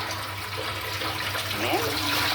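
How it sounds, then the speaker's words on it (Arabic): Rinse water used to wash tilapia fish is drained off in a continuous, fairly close rush of running, splashing water that swells slightly toward the end. "نقوم بقى مصفين الميه دي كلها. كان نحط ميه جديده."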